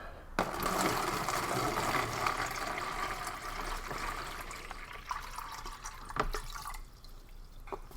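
Water poured into a container to measure a ration pack's capacity, a steady splashing gush that runs several seconds and tails off into a few drips, close and moderately loud.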